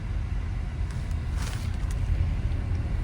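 A car rolling slowly in third gear after braking, with a low steady engine rumble and road noise heard from inside the cabin and no one talking.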